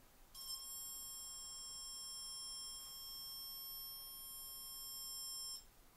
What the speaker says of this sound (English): you'll hear this sound when you actually touch the salt water to the probe and then touch the probe to your skin